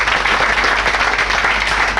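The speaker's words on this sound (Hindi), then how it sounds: "एक बार जोरदार ताली हो जाए प्लीज" Loud applause from an audience at an RCM business meeting in Ghaziabad, a thick continuous wash of clapping from many people, close and sustained with no pauses.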